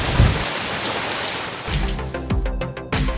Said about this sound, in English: It started to rain. A little tropical storm.